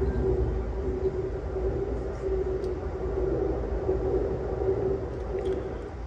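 Amtrak Illini passenger train passing on double track while another train waits on a siding north of Tuscola, Illinois; a steady, loud rumble with a sustained tonal hum, continuous throughout with no voices.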